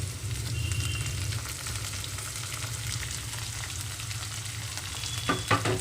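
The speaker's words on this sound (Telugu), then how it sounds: "ఇవి కూడా వేగేటప్పుడే ఇందులోకి మొత్తం కట్ చేసిన వెజిటబుల్స్ అన్నీ వేసుకుంటున్నాను స్వీట్ కార్న్తో సహా" Chopped vegetables and sweet corn frying in a pan for wheat rava upma, giving a steady, even sizzle throughout with a couple of soft stirring clinks near the end.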